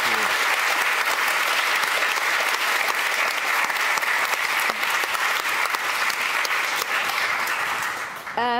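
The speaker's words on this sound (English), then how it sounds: "So give them a big applause," Audience applause at the close of a talk-and-discussion evening on smartphone addiction, a full sustained wash of clapping from a roomful of people, loud and unbroken for several seconds before it tapers off at the very end.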